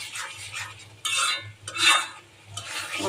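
A spice paste for beef liver is fried in oil and stirred firmly. Three loud scraping strokes of a spatula against the pan cut through a quieter sizzle, close up.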